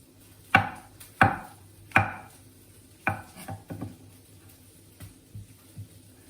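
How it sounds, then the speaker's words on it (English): A knife chops small mushrooms on a cutting board for a bacon and mushroom risotto, giving sharp, close strikes: three strong evenly spaced chops, then a looser run of lighter cuts trailing off into quieter taps. "We're chopping these mushrooms while our bacon is rendering out."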